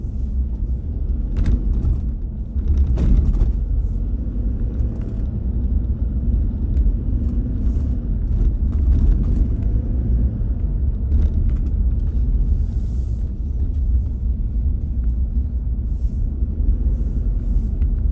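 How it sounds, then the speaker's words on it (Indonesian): A sand truck rumbles along a road near Telaga Ngebel in Ponorogo, its low engine drone steady and close for the whole stretch, with faint knocks and clatter on top and no talk. "terhalang truk. Ini truk pasir ya teman-teman"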